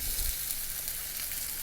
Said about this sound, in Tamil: வெங்காயம், தக்காளி, பூண்டு இவை எல்லாமே நல்லா ஒரு சேர வதக்கலாம்